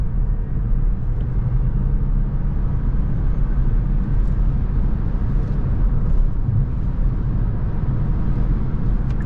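A 2024 Kia Niro EV cruising on a highway in sport mode, heard from inside the cabin as a constant low road and tire rumble with steady wind noise, no voices.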